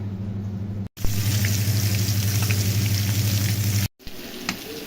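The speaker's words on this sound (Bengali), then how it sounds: "এখন আমি সুন্দর করে ভেজে নিব ভেজে তারপরে মাছটা রান্না বসিয়ে দেব" Spice-coated eggplant frying in a pan, a loud steady sizzle over a low hum, cutting off briefly twice, with no talk.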